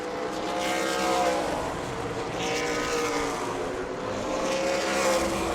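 Race cars roaring around the New Smyrna speedway during ASA Stars National Tour practice, a continuous loud engine drone that swells and fades as cars pass at a distance.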